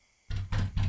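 Knocking at a door in the horror game Passerby, three heavy, muffled thuds in quick succession after a moment of quiet, close and resonant.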